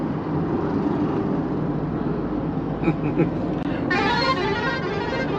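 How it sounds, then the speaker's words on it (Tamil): A heavy truck horn blares near the end, loud over steady road rumble and engine noise, after a few shorter toots, on the road between Mangalore and Udupi. "செம்மையா அடிக்கிறான் ஹாரன்லாம்"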